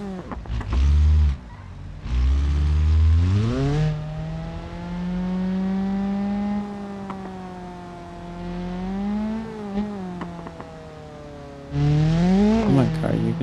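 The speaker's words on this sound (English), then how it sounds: "Come on, car, you can shift." A damaged car in the BeamNG driving game revs hard, its engine pitch climbing and dropping through several gear shifts, loud and close throughout.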